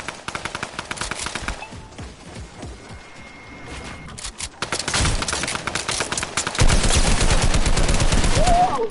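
Rapid automatic gunfire from drum guns in a Fortnite-style Creative one-versus-one-versus-one match, dense bursts of shots that grow louder and more intense in the second half, with no talking.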